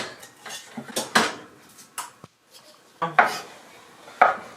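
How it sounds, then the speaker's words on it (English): A knife chops garlic on a cutting board, with irregular sharp knocks and scraping strokes, some close and loud, separated by short pauses. "let's start chopping up our garlic"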